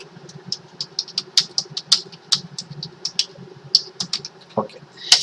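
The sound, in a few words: typing on a computer keyboard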